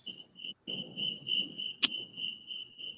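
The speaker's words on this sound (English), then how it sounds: "Just crickets." Steady, fast cricket chirping trills on continuously at moderate level through the whole stretch, with one brief louder click partway in and no talk over it.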